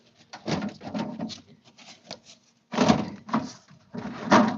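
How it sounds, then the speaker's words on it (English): An old wooden drawer is pulled and worked in and out, giving three clusters of rough scraping and rubbing strokes with short pauses between, close and moderately loud. "Let's pull this next drawer."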